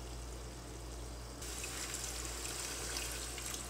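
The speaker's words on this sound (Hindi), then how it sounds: "अब हम इसमें पानी ऐड करेंगे" Water pours steadily into a pot of chickpea pulao with spiced chickpeas, a continuous broadband rush that grows louder and fuller partway through, with no talk.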